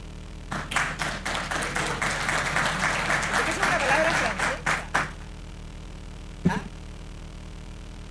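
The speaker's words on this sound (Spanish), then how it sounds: "lo recibimos con un gran aplauso" An audience at the TRANS-PORT 2024 conference welcomes a keynote speaker on maritime decarbonization with about five seconds of lively clapping that builds and then fades out, followed by a near-silent pause and a single sharp tap.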